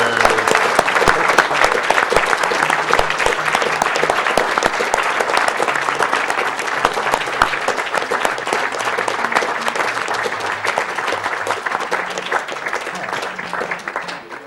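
At the AGDQ 2014 speedrun marathon, an audience keeps up sustained, dense applause after a Mega Man 9 run. The clapping is loud and steady throughout, and a few voices can be heard underneath.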